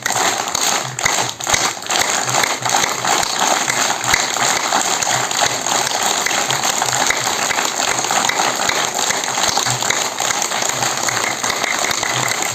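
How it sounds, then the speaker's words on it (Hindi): Dense, sustained clapping from a large group during a yoga session to relieve stress, loud and steady throughout with many overlapping hands and no talk. "प्रतिदिन हैंड क्लैपिंग करना है। जोर से, और जोर से, जितनी भी ताकत हो।"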